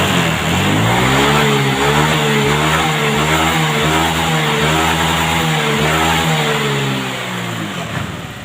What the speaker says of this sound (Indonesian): ini coba kita gas kembali ya dengan metode kita gas cepat ya